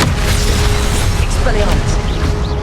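Spell-blast explosions from the Hogwarts Legacy fire spell Confringo go off in a dense run of booms and bursts amid continuous game combat noise, loud and close, with voices mixed in.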